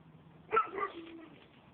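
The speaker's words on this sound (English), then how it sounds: "That's the neighbor's dog behind me." A neighbor's dog gives a single short bark from behind a house, moderately loud and slightly distant, followed by a faint whining tail against quiet background.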